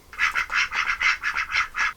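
Indian runner ducks quack in a rapid, evenly spaced run of about nine loud, close calls over two seconds, with no one talking.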